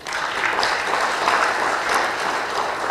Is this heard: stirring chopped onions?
no